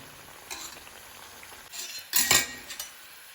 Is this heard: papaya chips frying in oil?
yes